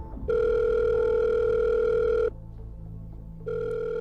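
Telephone ringing indoors at night, a loud steady electronic ring tone that sounds for about two seconds, pauses, then starts again, alone with no talk.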